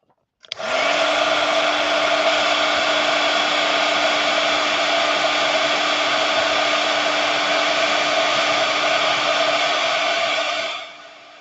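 A heat tool blowing hot air over shrink art plastic switches on with a click and runs as a loud, steady whirring roar with a constant motor hum for about ten seconds before winding down.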